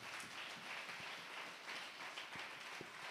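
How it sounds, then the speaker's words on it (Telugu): A church congregation claps together during a Sunday sermon, a steady wash of scattered hand claps throughout, fairly faint and distant, with no talking over it. "చప్పట్లు కొట్టండి."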